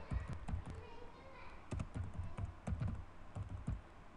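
Typing on a computer keyboard while entering text into a SmartArt graphic, with quick clusters of close, crisp key taps separated by short pauses; a voice talks faintly underneath.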